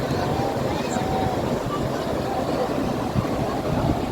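Steady wind roars and buffets against the microphone, a continuous loud rushing with faint background murmurs.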